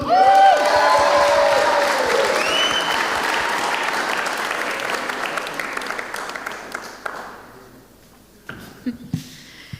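Audience applause for performer Sean Gray at the Scots Language Awards 2024 night in Cumnock: a loud burst of clapping that slowly thins and fades, ending in a few scattered claps.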